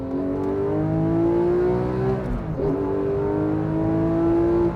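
A Porsche 911 with a 4-liter engine revs while driving, a loud steady engine note that climbs in pitch, dips briefly midway, then climbs again, heard close up with no talking.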